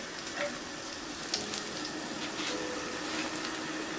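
Aloo pyaaz pakoras frying in hot oil, a steady close crackling sizzle with small bubbling pops throughout, no voices.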